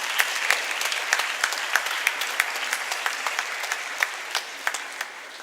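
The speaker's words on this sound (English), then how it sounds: "a big round of applause is required for Team ISG" An audience at a model UN conference claps for Team ISG, a dense run of many individual hand claps in a hall, steady and fairly loud before thinning toward the end.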